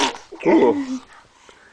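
A baby gives one quick, close sneeze, a short sharp burst that trails off, just after an adult's brief exclamation.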